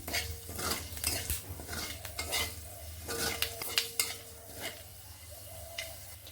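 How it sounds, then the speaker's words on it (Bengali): A green chili and panch phoron spices stirred in a little hot oil in a wok, with a spatula clinking and scraping the metal in quick bursts over a soft sizzle, fairly quiet and close. "কড়াইতে একটুখানি তেল দিয়ে নিলাম একটি লঙ্কা ও পাঁচ ফোড়ন দিয়ে নিলাম ফোড়নগুলোকে কয়েক সেকেন্ড নেড়ে নিচ্ছি"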